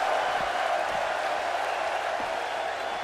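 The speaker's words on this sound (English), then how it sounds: "The crowd getting hot here." Crowd noise from a wrestling match in WWE 2K17: a steady, dense roar of cheering spectators filling a large arena, holding loud and continuous throughout with a few brief thumps underneath.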